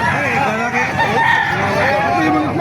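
Several roosters crow and chickens cluck over one another in a noisy, busy chorus at an early-morning chicken market in Calumpit, Bulacan, with faint voices in the background.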